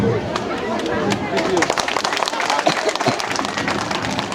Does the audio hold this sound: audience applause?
yes